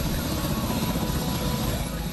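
A helicopter in the video game Blox World gives off a steady, loud, close rotor and engine drone, heard under a speaking voice.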